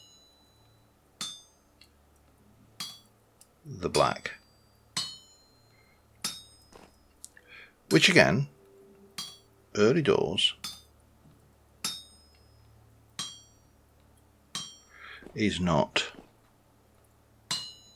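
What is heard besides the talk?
hammering metal bloom in video game Vintage Story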